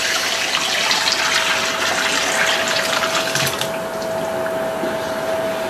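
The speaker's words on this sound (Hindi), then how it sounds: "यखनी को अलग से इसको फिल्टर कर लेना है इस बाउल में।" Chicken stock (yakhni) pours steadily through a strainer into a bowl in a home kitchen, a loud, continuous splashing rush that eases slightly near the end, with no talking.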